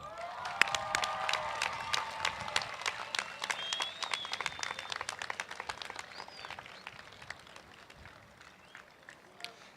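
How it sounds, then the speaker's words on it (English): At a Class of 2017 high school graduation ceremony, graduates stand and applaud their parents and families, with scattered sharp claps, some cheering and crowd noise echoing in a large space. "please stand, turn, and applaud your parents and families for all they have done to get you here."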